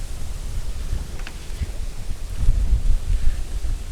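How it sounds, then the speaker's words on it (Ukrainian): Cold storm wind of about 28 m/s blows steadily while fishing, gusting and rumbling against the microphone, with faint rustling throughout. "Такі, такий холодний вітер"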